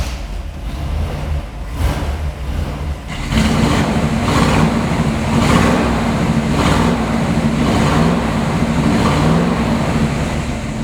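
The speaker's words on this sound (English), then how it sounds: "But how about I fire it up for you?" A 1946 Ford Cabriolet's engine cranks and catches about three seconds in, then settles into a steady, loud, close-up running idle with a low rumble, and no one speaks over it.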